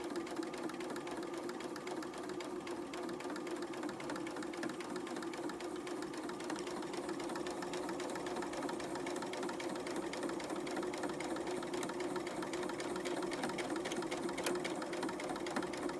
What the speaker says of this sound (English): And now I'm gonna sew across.